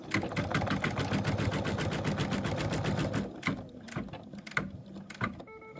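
An embroidery machine stitches a bunny design in the hoop, making rapid, even mechanical clatter for about three seconds before slowing into irregular, sparser needle strokes and clicks. The sound is close and moderately quiet, with no voices.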